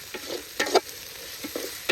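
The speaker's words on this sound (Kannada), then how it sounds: "ಜಿಂಜರ್ ಹಾಕಿ ಸ್ವಲ್ಪ ಲೈಟಾಗಿ ರೋಸ್ಟ್ ಮಾಡ್ಬೇಕು ಇವಾಗ ಅದನ್ನು." Ginger roasting lightly in a pan for chicken curry, cooked outdoors in a forest at night: soft frying sizzle with a few stirring scrapes and clatters in short bursts, fairly faint and without talk.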